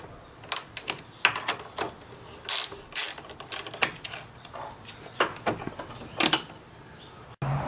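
Ratchet clicks in short irregular bursts as a car battery's negative terminal is loosened on an 85-97 Mustang GT, close and crisp, with brief pauses between turns.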